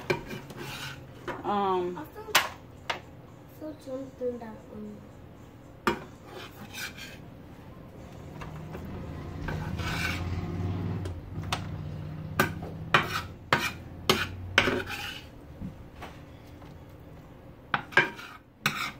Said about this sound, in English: I'm taking the meat out the skillet and I'm putting it off to the side